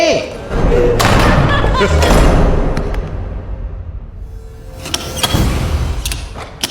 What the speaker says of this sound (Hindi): सोल्जर दरवाजा बंद कर रहा है।